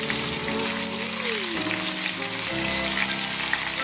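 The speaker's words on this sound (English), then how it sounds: "And that's going to fry for a little bit." Chicken pieces seasoned with salt and oregano fry in a pan with a steady, close crackling sizzle, while a separate tonal hum with sliding pitches runs underneath.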